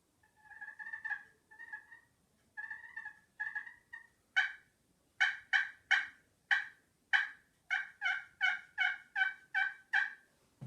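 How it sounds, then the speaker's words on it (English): A Primos Jackpot turkey call played in a clear run of yelps, first in slower clusters and then in a quick, steady series, close and loud with no talking. "this right here is a Primos jackpot call"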